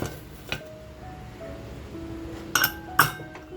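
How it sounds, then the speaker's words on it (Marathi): A few sharp metallic clinks as a pressure cooker lid is set in place, against a quiet kitchen background. "तर बघा आता आपण कुकरला झाकण ठेवूया."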